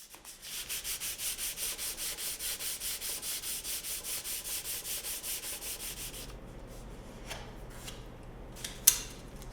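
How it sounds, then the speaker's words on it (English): Wooden parts for a mid-century modern tabletop stereo console sanded by hand, heard as a steady rhythmic scrubbing of about twenty even strokes close to the mic. The strokes stop partway through, leaving faint rustles and one sharp knock. "I hand sanded all the parts and prepped them for assembly"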